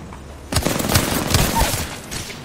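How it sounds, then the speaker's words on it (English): Video game gunfire aimed at an enemy: loud, close bursts of rapid shots that start suddenly and keep going for about two seconds. "Open and fire on the enemy."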